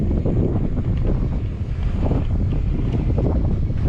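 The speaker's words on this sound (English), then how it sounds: "You can hear like a wind rushing sound." Steady, loud wind rushes out of a bore in a constant roaring hiss with low rumbling gusts, continuous and close, with no voices.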